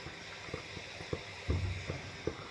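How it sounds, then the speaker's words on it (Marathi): Karanji pastries frying slowly in hot oil in a kadhai over a low flame, a soft continuous bubbling sizzle with small irregular pops and crackles. "तर आपण करंजी तळायला घेऊया"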